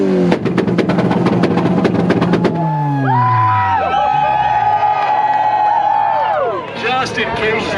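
An Acura revs hard in a two-step competition at an import car show in Rockingham, rapid stuttering bursts then a long rising and falling engine note, with a crowd cheering and whooping around it.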